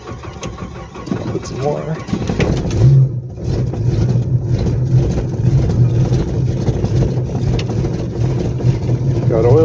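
A 1989 Jeep with a 4.2 engine wearing a 4.0 head, MSD-6AL ignition and a Holley 4412 carburetor cold-starts, cranking briefly before catching into a steady, rumbling idle close by, while a person speaks over it.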